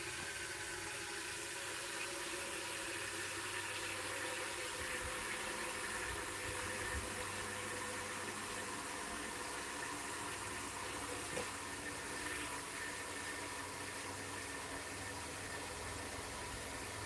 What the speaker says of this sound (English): Sorry, I'm just filling water up.